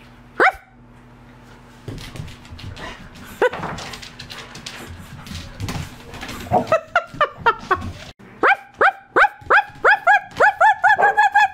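A person imitates dog barks while real dogs bark back, the sharp repeated barks growing louder and faster toward the end, with a horse farm's foal nearby.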